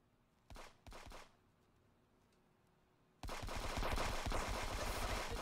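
Sustained turret gunfire in a helicopter rescue shooter game erupts as a loud, dense continuous roar after a couple of brief isolated bangs, running without letup to the end.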